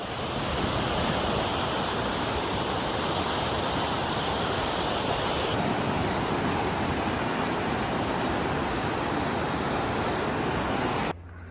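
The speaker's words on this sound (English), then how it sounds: "I love the sound of the rushing water." Rushing water in the Tutshi River Canyon far below a suspension bridge roars as a dense, steady wash of broadband noise, loud and unbroken before cutting off abruptly at the end, with no voices.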